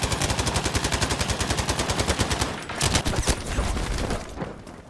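A medium machine gun fires in Battlefield V, a rapid, even stream of loud close shots for about two and a half seconds, then a few heavier booms and more bursts of fire under game noise.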